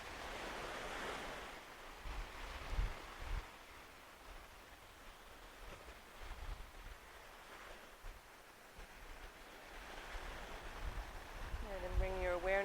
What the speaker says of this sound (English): with this beautiful ocean that you hear